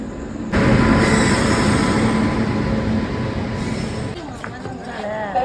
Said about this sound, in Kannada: ಬಂತು, ಟ್ರೈನ್ ಬಂತು ಗೈಸ್